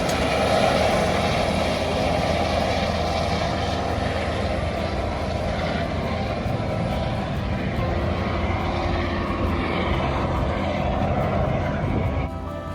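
A helicopter flies on a sightseeing tour over Dubai from the Atlantis, a loud, constant engine and rotor drone heard from inside the cabin, unbroken throughout with a slight drop at the end.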